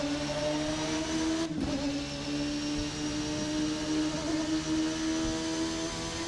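A 1999 Formula NA race car in a racing sim game holds a sustained, whining engine note with shifting harmonics and a brief dip around a gearchange, steady and fairly loud with no talk.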